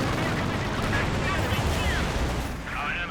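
Quad anti-aircraft gun firing in Company of Heroes 2, a dense, continuous rattle of rapid shots mixed with battle noise, while someone talks over it.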